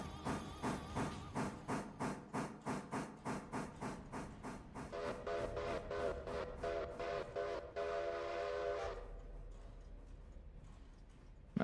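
A steam train puffs in steady rapid chuffs, then lets out a long, loud steam whistle blast over continued rail rumble before it fades.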